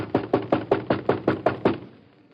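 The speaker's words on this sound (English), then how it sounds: "Let's bang on the door." Loud banging knocks on a store door, eight heavy evenly spaced thuds in quick succession, close and alone, ending in quiet.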